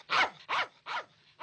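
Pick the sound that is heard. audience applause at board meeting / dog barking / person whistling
dog barking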